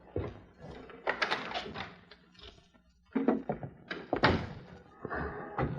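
A door creaks and thunks open in an old radio drama, with several close wooden knocks and bumps scattered through a few seconds of otherwise quiet room sound.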